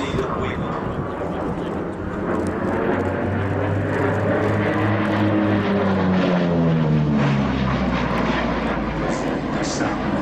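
Lockheed P-38 Lightning twin-engine fighter at the Duxford Flying Legends air show, a loud steady propeller-engine drone with a rising and falling pitch as the aircraft passes, continuous for about ten seconds.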